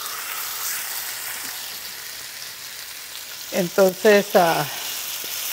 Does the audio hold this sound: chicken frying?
yes